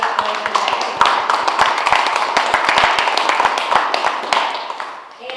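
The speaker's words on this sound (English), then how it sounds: "Can we just give a round of applause for all the folks who did that?" An audience claps for elected officials at a Medicare for All speak-out, loud, dense applause with many distinct individual claps close by, holding steady before tapering off at the end.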